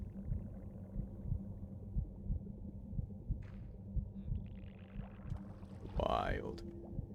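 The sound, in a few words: heartbeat sound in video game Minecraft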